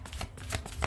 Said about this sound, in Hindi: लास्ट शफल रहेगा प्रभु।